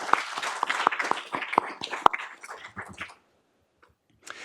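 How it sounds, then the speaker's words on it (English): A small meeting audience gives a brief round of applause, a sparse handful of distinct, close claps that thin out and stop, followed by near silence and a faint sound at the end. "Round of applause, please."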